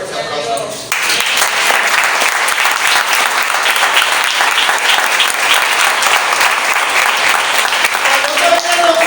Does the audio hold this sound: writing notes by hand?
no